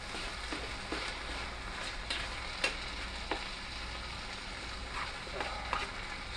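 Spicy chicken and vegetable fried rice with soy sauce being stirred in a pan, a low continuous sizzle with scattered spatula scrapes and clicks, fairly faint.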